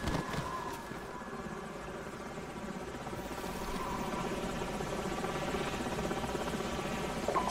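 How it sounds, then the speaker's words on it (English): Enemy helicopters in Call of Duty 4: Modern Warfare, a continuous faint rotor drone and engine hum that holds steady throughout without speech. "Enemy helicopters."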